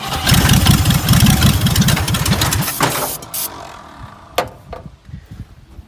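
A 1970 Ford Fairlane being cranked over and fired up: loud, dense rapid engine chugging and pulsing for about three seconds, then it drops to quieter, uneven sputters with a couple of sharp pops near the end.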